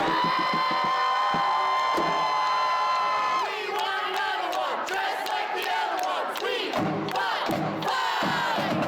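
A record stadium crowd roars and cheers after a goal for the Kansas City Current in a women's soccer match, with loud sustained whoops and shouts filling the stands, swelling and surging throughout.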